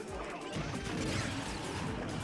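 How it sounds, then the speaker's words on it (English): Down smash attacks in Super Smash Bros. for Wii U (Smash 4) doubles play, heard as a steady, dense wash of loud crashing and whacking impacts with little pause. "That down smash is really freaking good."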